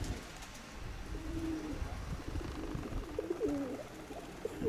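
Pigeons cooing near their nests, soft repeated low coos from a short distance amid outdoor background noise, several calls toward the end, no talk.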